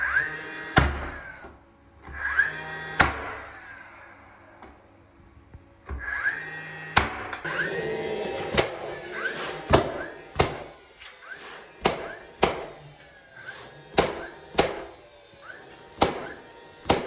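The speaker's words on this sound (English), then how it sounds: "you can also see how loud it is shooting and how frequent it can shoot on your bump fire mode" A DeWalt finish nailer fires in bump fire mode, giving loud, sharp, close shots at an irregular pace that grows quicker toward the end, with softer handling noise between them.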